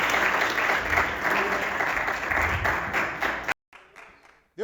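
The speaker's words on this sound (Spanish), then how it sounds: "Démosle otra ofrenda de palmas del Señor Jesucristo" A church congregation claps in praise, a full, steady burst of applause that cuts off abruptly near the end, leaving brief quieter room sound and a faint voice.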